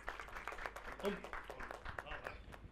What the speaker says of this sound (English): Please welcome him on stage with a round of applause.